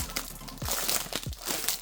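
Crinkly plastic wrapping crackles and rustles as a Razer keyboard is unwrapped from its packaging, with close, busy crumpling and a few sharp crunches throughout.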